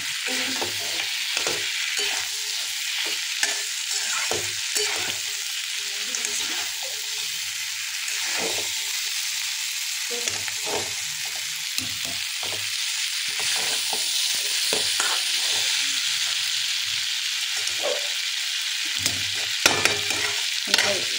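Drumsticks and potatoes sautéing with spices in a hot pan, a constant loud sizzle with repeated spoon scrapes and stirring knocks, close up and without talk.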